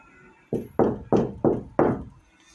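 Five firm knocks on a door, sharp and evenly spaced, each ringing briefly before the next, close and clear in a quiet room with no voices.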